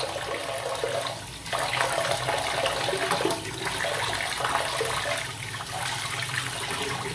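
A tap in an old hotel with aged pipework runs cold water into a basin, a steady rushing splash that continues throughout with slight surges and no talking.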